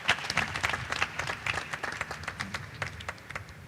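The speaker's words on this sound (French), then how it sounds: "Applaudissements." Audience applause in a church, a dense spatter of many hands clapping steadily at moderate volume with faint crowd murmur beneath.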